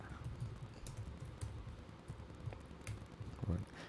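Someone typing code on a computer keyboard, a quiet, rapid patter of key taps in an uneven rhythm, close but faint, with a voice briefly present.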